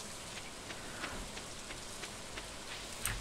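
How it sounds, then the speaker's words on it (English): Steady rain falls in the Stardew Valley video game, a soft, even hiss with faint scattered drop ticks, quiet and continuous with no talking. "I'm tired of this rain."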